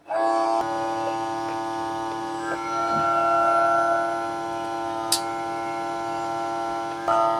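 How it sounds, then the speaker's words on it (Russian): A small electric vacuum sealer pump drones steadily, drawing air from a bag, with a whining harmonic hum for several seconds, broken by a couple of faint clicks. "поставим наш вакууматор и выкачаем воздух с мешка"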